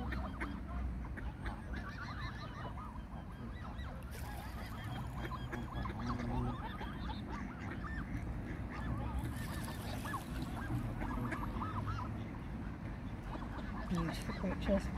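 Geese on a Birmingham canal honk and call repeatedly in a busy, close chorus, with ducks among them, while a person talks over the birds throughout.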